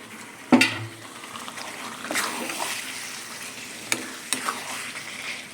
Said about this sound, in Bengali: এই নাড়ছি চিকেন।